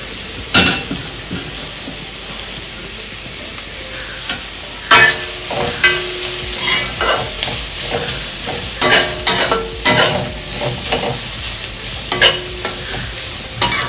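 Carrots stir-fried in a pan over high flame, a steady loud sizzle broken by repeated sharp scrapes and clanks of the spatula against the pan.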